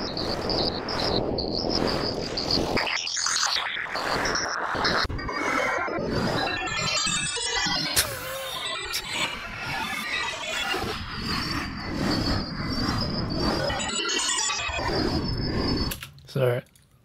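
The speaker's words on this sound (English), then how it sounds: "Why don't we try the vocoder mode here?" A spectral sound-design plugin running in vocoder mode: warped, voice-like tones that whinny, chirp and warble over a thick buzzing texture, loud and continuous before cutting off abruptly near the end.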